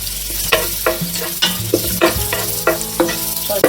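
Onions sizzle in hot oil with whole spices for a fish biryani, loud and close, while a spoon scrapes the pan in a steady rhythm of roughly two strokes per second.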